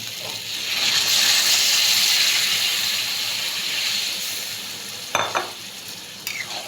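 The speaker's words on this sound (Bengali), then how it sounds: "এবার আমি যে ছোলা সেদ্ধ করে জলটা আলাদা রেখেছিলাম, সেই জলটা দিয়ে দেবো এর মধ্যে।" Reserved chickpea cooking water poured into frying chickpeas, a loud rising hiss and bubbling sizzle that swells then settles, followed by a couple of sharp spoon knocks against the pan.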